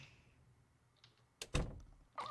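Door in the Project Zomboid video game, a short thunking open followed by a louder knock-like burst and a further clatter, standing out over a low steady background hum.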